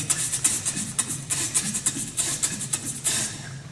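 A beatbox voice imitating a rock drum beat's hi-hat produces rapid, crisp breathy ticks in a steady rhythm, close and fairly loud, with low mouth thumps underneath.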